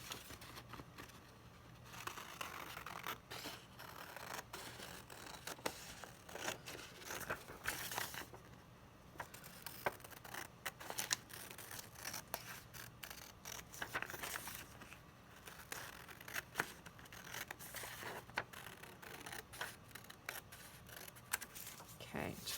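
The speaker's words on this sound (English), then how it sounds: "So go ahead and grab your scissors," Scissors snip around a bold outline to cut a picture from paper, giving irregular close crisp clicks and rustling paper crinkles with quiet gaps between bursts.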